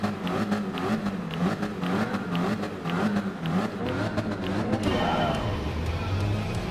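Several race car engines drone and rev together at the start of a Gran Turismo Sport race, a steady dense mechanical roar with rising pitch sweeps near the end.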